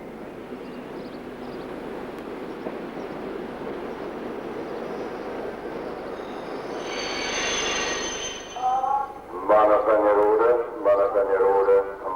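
A passenger train hauled by a class 50.35 steam locomotive pulls into platform 1 at Wernigerode station in the Harz in the 1980s, with a long rolling rumble and a brief wheel squeal, then a voice talking over the station.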